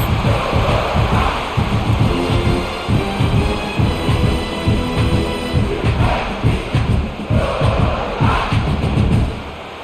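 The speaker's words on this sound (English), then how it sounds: "Listen to this crowd just shaking the girders of this place trying to help their defense." A packed stadium crowd roars through an EA College Football 26 game between Kentucky and South Carolina, a dense, booming wall of noise that surges and throbs in waves and stays loud throughout.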